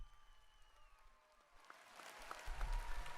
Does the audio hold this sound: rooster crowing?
no